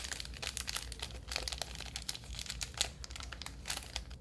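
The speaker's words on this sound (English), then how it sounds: "with the Note, you do have this little plastic baggie" A small plastic baggie from a Samsung Galaxy Note 8 headphones box is handled, giving close, soft crinkling and rustling throughout.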